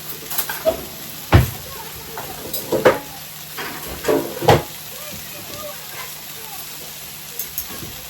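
Sausages browning in a frying pan for a spicy sausage pasta, a soft steady sizzle with scattered brief stirring clatters and occasional faint movement noises at close range.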